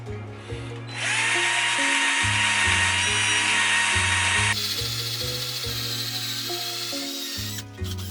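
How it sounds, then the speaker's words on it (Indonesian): A power drill bores dowel holes in a wooden board held in a dowelling jig. The motor whines up loudly and runs steadily for several seconds, then drops to a lower, duller pitch before stopping at the end. "Baik, ini kita bor."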